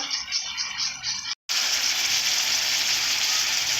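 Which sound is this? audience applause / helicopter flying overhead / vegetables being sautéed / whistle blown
vegetables being sautéed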